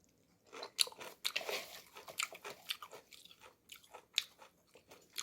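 Close, crisp crunching and biting while chewing seasoned shepherd's purse namul, a dressed wild-greens side dish, in irregular bursts of bites and moist mastication with no talk.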